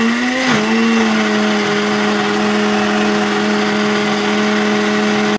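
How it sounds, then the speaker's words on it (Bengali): An electric kitchen blender runs steadily, grinding ginger and garlic; its motor whine holds a constant, loud, even pitch with no pauses. "তারপর ব্লেন্ডার করব।"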